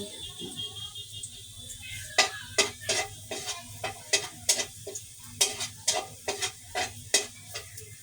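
Rice stir-fried in a large wok-style pan for Filipino garlic fried rice, with a steady sizzle and repeated sharp scraping clacks of a spatula in an uneven rhythm, close by.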